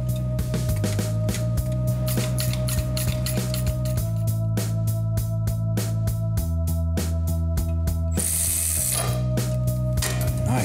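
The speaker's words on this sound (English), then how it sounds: "I have to put four screws in here." A hand ratchet clicks in steady runs while bolting a transmission to the engine of a 1971 Plymouth Cuda 340 3-speed convertible, loud and close with a brief hiss near the end; no talk.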